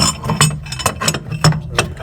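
A 3/8 inch ratchet bar clicks in a plumbing job, giving a few sharp, close, irregular clicks and metallic ticks with short gaps between them and no talking.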